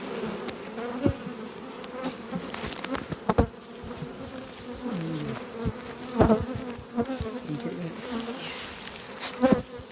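Honeybees buzz densely and continuously while a beehive is split into a new box, a close, steady drone with occasional clicks and knocks of frames and equipment.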